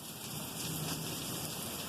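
Steady heavy rain falls during a thunderstorm, a dense continuous hiss of drops on surfaces with a faint low rumble under it, filling the whole clip.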